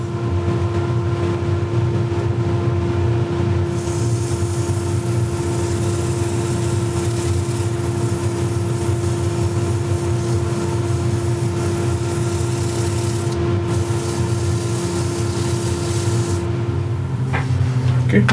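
Steady whirring sander works over an old wooden bowl, a continuous close drone with a low motor hum that runs unbroken and only shifts slightly in tone near the end.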